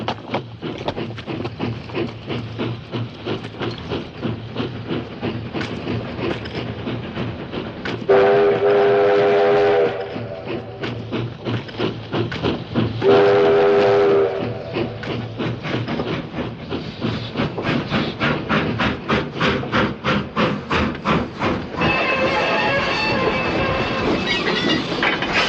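Train running on the tracks with a steady, rhythmic clickety-clack of wheels on rail joints, loud and close, broken twice by long whistle blasts and a horn near the end.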